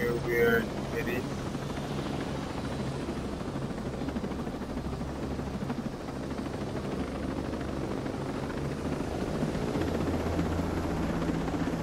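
Helicopter rotor and engine in the Ghost Recon video game, a steady loud whirring drone running throughout beneath people talking.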